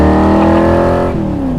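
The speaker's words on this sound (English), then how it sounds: "But the fact that you have a car that sounds like this" A Superformance Cobra R sports car engine revs loud and close, a rich roaring tone that climbs in pitch, then shifts down as the revs change.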